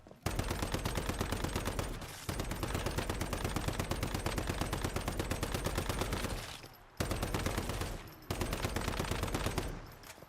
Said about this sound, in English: Lady, I've been shooting you the whole time.